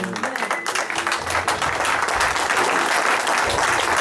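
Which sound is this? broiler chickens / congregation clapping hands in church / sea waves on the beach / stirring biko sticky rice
congregation clapping hands in church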